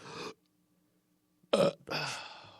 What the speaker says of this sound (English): That's a clean burp too.